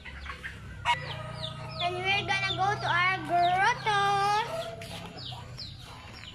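Chickens kept at a house cluck and call repeatedly in short bursts close by. Someone talks over them, with a low background hum underneath.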